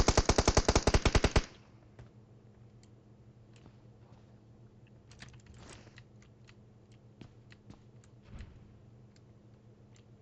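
Gunfire in the mobile battle royale game PUBG Mobile: a fast burst of automatic shots at the start, then quieter scattered distant shots and clicks over a low game-ambience hum.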